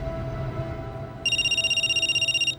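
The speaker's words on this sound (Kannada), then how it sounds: "ಸಾಮ್ರಾಟ್ ಆಫೀಸಿಂದ ಹೊರಗೆ ಬರ್ತಿದ್ದಂಗೆ ಅವನ್ ಫೋನ್ ರಿಂಗ್ ಆಯ್ತು." A phone ringtone sound effect in a narrated story starts suddenly after a quiet stretch, a loud electronic ring pulsing rapidly in even, repeated beats until it cuts off.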